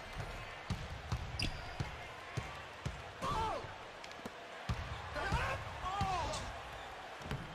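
A basketball bounces steadily with sharp, regular thuds in a PS4 basketball video game, heard under people chatting and loose game sounds.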